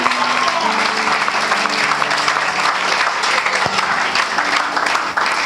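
A church congregation applauds loudly and steadily, the clapping sustained throughout with a few voices and tones mixed underneath.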